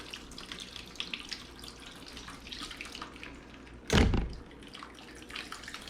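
Water rushes steadily through a household line while a newly replaced water filter is flushed, a continuous nearby hiss with a brief louder gush about two-thirds of the way through.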